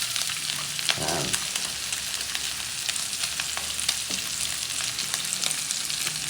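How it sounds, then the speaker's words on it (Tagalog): Hot cooking oil sizzles steadily in a pan while sautéing starts for Bicol Express, a close, constant hiss with faint clinks, and a voice briefly speaks. "para dyan tayo maglalagay ng mantika, dyan tayo mag-gigisa"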